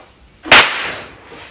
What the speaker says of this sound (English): my air compressor hose has a leak in it, and I taped it up with some gum tape a few days ago. And that banging as it just letting go.